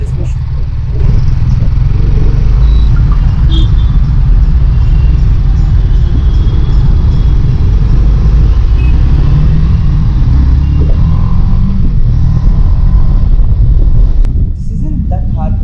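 A TVS Apache RR-310 BS6 motorcycle rides through traffic, its engine and road rumble steady, close and loud for the whole stretch, with no pauses or breaks.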